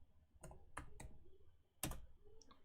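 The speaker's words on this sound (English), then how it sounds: "I'm going to type in Giame Journey show" Several sharp, separate keystroke clicks on a computer keyboard, with short pauses between taps and one louder press near the end, heard close up in a quiet room.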